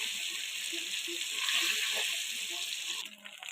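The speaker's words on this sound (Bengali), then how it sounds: "পনিরটাকে হালকা করে ভেজে নেব" Paneer fries lightly in hot oil, a close, even sizzle and crackle that carries on steadily before tapering off and breaking up near the end.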